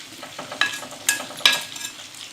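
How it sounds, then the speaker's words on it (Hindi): Chicken frying in a pan over a low flame, with a gentle sizzle broken by three sharp stirring or scraping clinks, close and clear with no talk. "अब हल्की आंच पे ये पक रहा है गोश्त"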